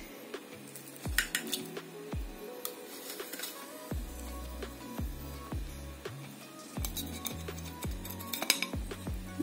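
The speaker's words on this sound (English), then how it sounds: "Now, let's give it a cut." A knife cuts through a low-calorie blueberry raspberry cheesecake, making a series of sharp metallic clinks and taps against a plate or pan, irregular and close, with no talking.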